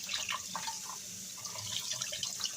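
Canned beans are rinsed under a running tap to wash off salt, with continuous splashing water and small irregular droplet patters at moderate volume.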